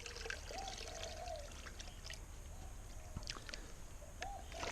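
Muddy water and sludge pour and trickle into a tray in a few quiet splashing bursts, with light outdoor background noise and no talking.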